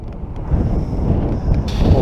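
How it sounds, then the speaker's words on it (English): Strong, cold wind gusts across an exposed farmyard in snowy weather, a loud, buffeting rush that hits the microphone, with a faint metallic rattle toward the end. "Oh, it's windy up there. A Siberian blast is blowing through quite keenly."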